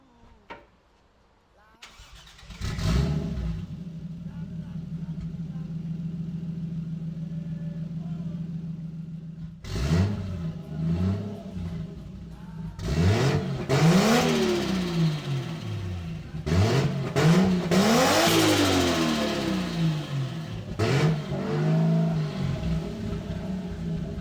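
Lexus IS300 car engine starts, then idles before being revved repeatedly with rising and falling sweeps, loud and close, with brief speech mixed in.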